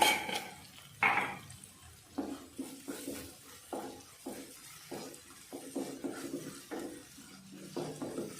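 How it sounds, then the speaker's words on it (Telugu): Ginger paste frying in oil in a pan, with a steady background sizzle broken by repeated scraping stirs of a utensil against the pan at a regular, unhurried rhythm, up close and with no voices. "సో అల్లం పేస్ట్ వేసాం కాబట్టి దానికి పచ్చి వాసన పోయే వరకు మనం ఫ్రై చేసుకుంటే సరిపోతుంది"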